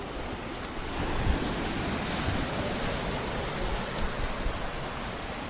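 Sea surf rolling onto the shore at Dwarka on the Gujarat coast, a constant broad wash of breaking waves mixed with wind buffeting the microphone, steady and moderately loud with no voices.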